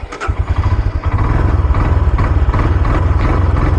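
A motorcycle engine idles with a steady, close, rumbling clatter while the idle is adjusted, running alone on a high road in Ladakh between Sonamarg and Leh.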